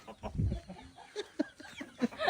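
A chicken belonging to Dongdong clucks in a few short, close bursts after being tossed, with scattered scuffling noise around it.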